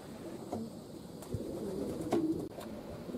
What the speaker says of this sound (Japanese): また上空に鳩がなんか3羽戻ってきましたね